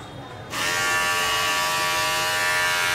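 An electric hair trimmer running on USB power switches on after a brief quiet moment and settles into a loud, steady, high-pitched buzz, close up and alone.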